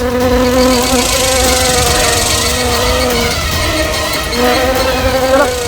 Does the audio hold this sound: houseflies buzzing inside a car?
yes